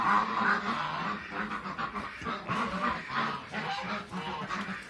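Four geese honk repeatedly and loudly at close range, calling over one another in a noisy, continuous chorus.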